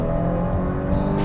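A 2022 Volvo XC60 hybrid SUV accelerates hard, its engine giving a loud, steady drone with rising whine, heard from inside the cabin.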